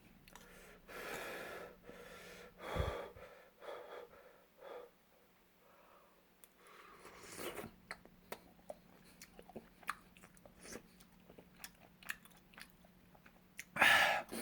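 Shin Ramyun noodles with melted cheese and rice mixed in, eaten close up with soft wet chewing, slurps and breathy sounds spread across the clip and a sharper burst near the end; no talking.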